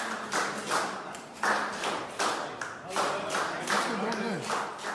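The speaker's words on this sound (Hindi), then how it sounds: "अस्पताल का पूरा स्टाफ अस्पताल से डिस्चार्ज होने वाले एक मरीज के लिए तालियां बजा रहा है" Hospital staff in Bengaluru clap for a patient being discharged after recovering from COVID-19 on a ventilator; scattered applause comes in uneven bursts, with voices talking over and around the clapping throughout.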